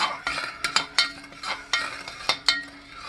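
A spoon stirring salt into a warm marshmallow mixture of sugar and gelatin in a pot, with repeated scraping strokes and light clinks against the pot in a steady rhythm, close, no talking.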